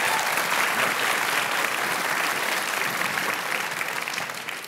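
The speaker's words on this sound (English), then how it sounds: "Nice little round of applause." Sustained applause from a theatre audience at a concert band performance, a dense, even wash of many hands clapping that fades slightly at the end.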